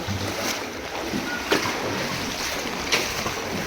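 Floodwater running through the narrow lanes of a flooded Punjab village, a steady broad rushing wash with wind-like hiss, two brief splashy surges standing out, no talk over it.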